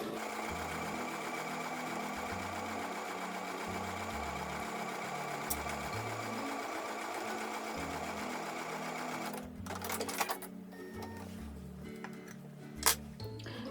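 A sewing machine stitching a quilt block for a card trick quilt runs steadily and close for several seconds, with a rhythmic motor hum, then slows and stops with a few handling clicks.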